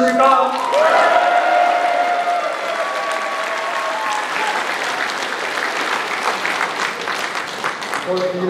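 Sustained applause from a large crowd at a party members' rally, dense clapping continuing for several seconds with a voice speaking over it at the start.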